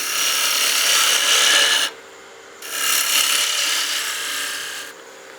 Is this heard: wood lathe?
yes